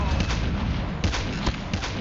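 Video game gunfire sounds as a few sharp, loud shots spaced apart, close up, over a busy rumbling background.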